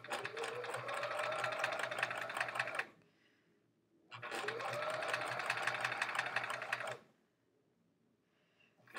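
A sewing machine runs in two steady bursts of fast mechanical stitching, each lasting a few seconds, separated by a brief pause.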